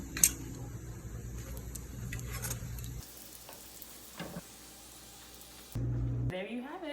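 Garlic flatbreads fry in a hot pan with a steady, close sizzle and crackle that breaks off and returns several times as the pieces are moved and flipped.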